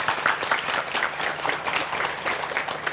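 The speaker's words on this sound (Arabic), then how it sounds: "هاي تصفيقة كبيرة عليهم" A studio audience at a televised youth challenge game show claps loudly and continuously for several seconds in a dense, even burst of applause, with no speech over it.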